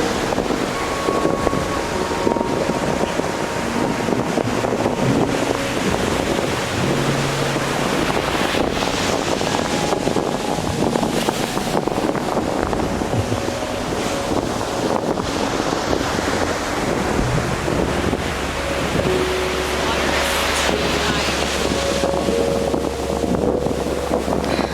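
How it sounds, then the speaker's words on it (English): Strong wind blows straight into the microphone by open water. A heavy, continuous rumble and buffeting roar lasts the whole stretch without a break. "The wind is too high."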